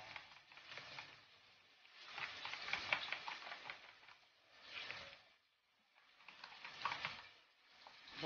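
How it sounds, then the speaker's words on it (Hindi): Onion and chicken frying in a pan, a soft sizzle that swells and fades in several waves, with faint stirring noises mixed in and no voices. "जब तक हमारी प्याज और चिकन वहाँ पर फ्राई हो"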